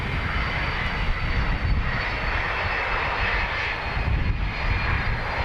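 Airbus A330 jet engines roar steadily at a distance, a broad continuous rumble holding level throughout with no voices, heard near Dublin Airport.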